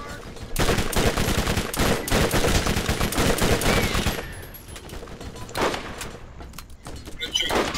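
Rapid bursts of gunfire from a heavy-recoil weapon in the video game Borderlands, loud and dense for several seconds, then a few scattered shots.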